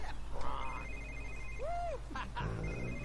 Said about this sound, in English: More phone calls.